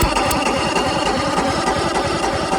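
Outboard engine on a 1997 Fisher Freedom 200 deck boat cranking over with a compression tester fitted, a steady loud rhythmic starter churn with regular pulses running throughout, no voices.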